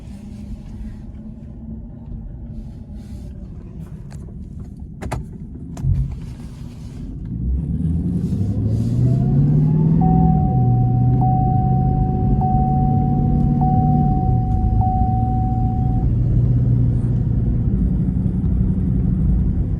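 A 1971 Chevrolet Caprice with fault codes and running low on fuel idles steadily up close, its engine rumble swelling louder partway through and holding a sustained drone with a faint whine, no talking over it.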